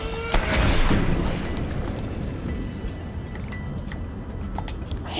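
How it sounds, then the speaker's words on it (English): An exploding fish detonates underwater in Subnautica Below Zero, a loud, deep boom that swells and then trails off into a low, rumbling wash with faint bubbly ticks. "I hate those exploding fish so much"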